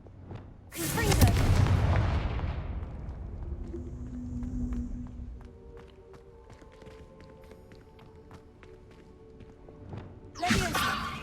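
Confringo fire spells in Hogwarts Legacy blast out as two loud, booming bursts, one near the start and another near the end, with quieter game clatter and ringing tones in between.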